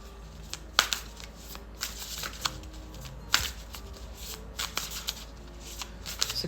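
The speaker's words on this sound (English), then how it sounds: "let me just move these cards." Tarot cards are shuffled and moved about, close and quiet, with soft papery slides and small irregular taps scattered over a faint background hum.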